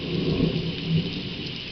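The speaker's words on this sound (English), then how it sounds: "The thunder saying hello." Thunder rumbles through a heavy thunderstorm, low and rolling in two swells over steady pouring rain, with no voices.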